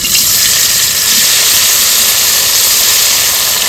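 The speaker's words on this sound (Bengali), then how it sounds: "তো তেলটা গরম হয়ে গেছে, আমি দুবার করে পনিরটা ভাজবো।" Paneer frying in hot oil, with a loud, steady hiss that holds constant and close throughout, no talk over it.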